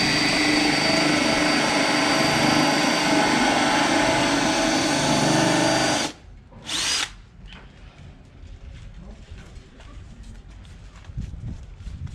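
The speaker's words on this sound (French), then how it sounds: "Donc on va percer la coque, d'abord faire un pré-trou avec une mèche fer" A power drill with a metal bit bores a pilot hole through a boat hull, running loud and steady for about six seconds before stopping abruptly, followed by a brief second burst and then quiet handling noises.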